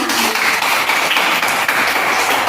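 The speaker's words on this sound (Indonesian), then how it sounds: "Tepuk tangan." Students clapping together in a classroom, a loud, dense burst of hand claps that carries on evenly from start to finish with no talking over it.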